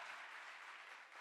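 A large audience claps loudly and continuously at a church revival meeting in Ranchi, raising thanks to God in a dense, steady wash of applause with no speech over it.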